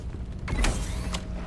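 Doors creak open in the Black Ops 7 video game on PC, a short loud groaning creak with a mechanical edge that rises sharply near the middle, no talk over it.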